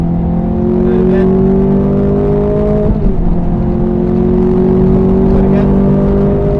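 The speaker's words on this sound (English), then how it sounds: "We're revving the engine high." A Ferrari F430 engine revving high on a wet Silverstone circuit, a loud sustained drone heard from inside the car that holds steady, dips briefly, then climbs again.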